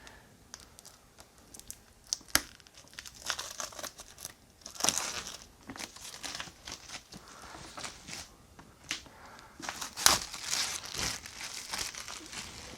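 Wrapping on an Everdell board game expansion box is torn and crinkled by hand, with close, soft rustling and sharp crackles coming in irregular bursts throughout.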